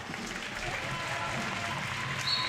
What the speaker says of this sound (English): No wonder the crowd are cheering there and clapping.